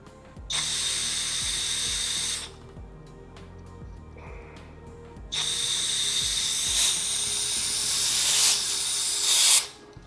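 Pressurized air hisses through a nozzle with a rubber tip into the charcoal canister of a Toyota Land Cruiser 80 Series, in two loud sustained blasts separated by a short pause, the second one longer and rising at the end.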